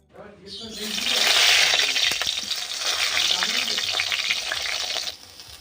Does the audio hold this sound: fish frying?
yes